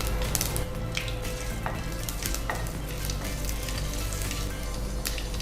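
Curry leaves dropped into hot oil with mustard seeds for a tomato chutney tempering, crackling in a loud, dense, continuous sizzle close by, with a few sharp pops and stirring scrapes.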